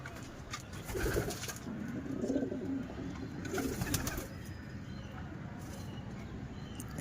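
A male racing pigeon coos softly nearby, a few low throaty rolling coos in the first half, followed by quiet background.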